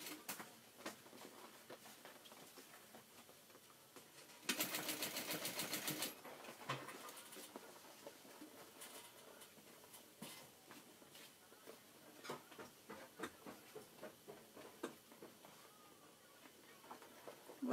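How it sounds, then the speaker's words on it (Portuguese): Sewing machine stitching a fabric backpack, running in steady rapid bursts with a louder dense run of stitching near the start, then shorter stop-start passes. "vou... começar a costurar."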